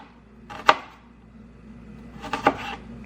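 A knife chops onion on a cutting board in two brief, separate bursts of close, crisp knocks against quiet background hiss.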